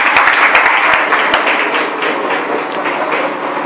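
A church congregation applauding during a Sunday service, a dense, steady wash of clapping with a few sharper close claps near the start.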